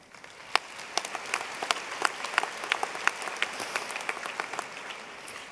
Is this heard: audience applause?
yes